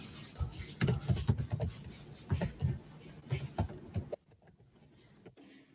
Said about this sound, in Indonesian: Ini saya lagi ngetik.